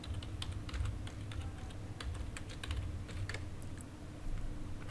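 Keys on a computer keyboard clatter in quick, irregular bursts of close clicks, with a steady low hum underneath.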